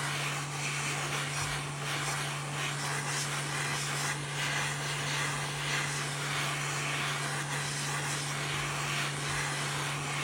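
A heating tool blows steadily while warming the screen of a Samsung S24 Ultra phone, producing an even, continuous airy hiss with a low electrical hum throughout and no pauses.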